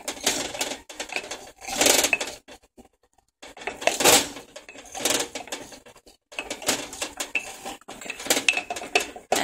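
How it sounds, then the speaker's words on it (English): Fruit is pressed down with a metal spoon in a container to release juice for infused water, giving repeated close scraping, clinking and squishing bursts with brief pauses between them. "I'm gonna just smush that down a little more"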